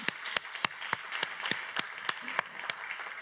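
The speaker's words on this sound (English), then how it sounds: "please start with a warm applause for the founder, Renate Altenhofer." A few people in a Women Leadership Forum audience clap for the founder, sparse, evenly spaced claps that ring out clearly and sound thin rather than like a full ovation.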